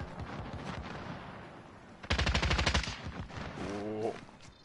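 Gunfire in a shooter video game, a rapid burst of automatic shots ringing out at mid-distance, with scattered quieter shots and game sounds around it.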